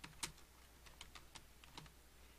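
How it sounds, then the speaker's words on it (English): Quiet, close typing on a computer keyboard, a short run of separate key clicks with one sharper tap near the start. "Now notice I am typing"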